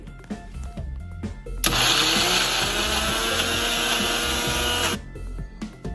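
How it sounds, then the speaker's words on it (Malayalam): A mixer grinder whirs loudly and steadily for about three seconds, blending cooked mushrooms for a mushroom cutlet, then cuts off; faint kitchen clatter comes before and after. "വെന്തതിന് ശേഷം നമുക്കിനി മിക്സിക്കകത്തിട്ട് ഒന്ന് അടിച്ചെടുക്കാം"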